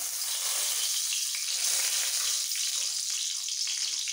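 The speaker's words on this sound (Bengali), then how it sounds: "ফোড়ন ভাজা হয়ে গেলে দিয়ে দেবো মশলা বাটাটা" A ground paste of tomato, cashew, green chili and ginger fries in a pan over spice tempering, giving a constant, dense hiss and sizzle up close, no voices.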